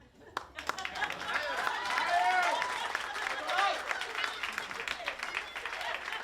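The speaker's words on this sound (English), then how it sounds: "once again, a nice big round of applause for all of our speakers" Wedding guests applaud after a toast, steady clapping from a crowd building quickly and holding for several seconds, with voices mixed in.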